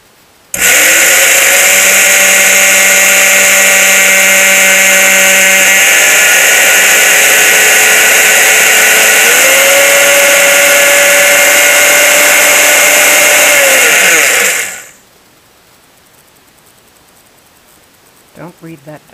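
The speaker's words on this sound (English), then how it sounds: "So this is all going to go in the blender" A blender grinds eggshells into powder for homemade worm food, a loud, continuous high whine that shifts pitch a few times as the blade loads and frees up, then cuts off sharply, leaving near silence and a few faint clicks.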